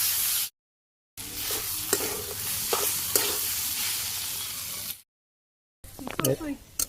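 Onion, green chili, salt, turmeric and dried chili powder stir-fried in a pan, a continuous sizzle with scraping stirs and small pops, cut by brief gaps, with a voice talking over parts of it.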